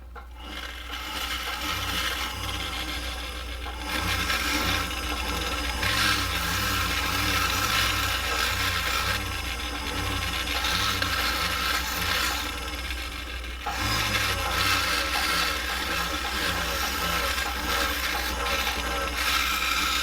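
A rotary tool fitted with a hog burr grinds fire agate stone in a continuous close, loud, gritty whine with a slightly wavering pitch and brief dips, sounding alone.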